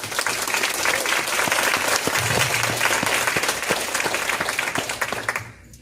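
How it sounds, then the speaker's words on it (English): A room of attendees at a school board candidates' meet and greet gives a round of applause for district staff: dense, steady clapping that holds at full strength and fades at the end. "Can we just briefly ask for a round of applause for all those people that make our district go?"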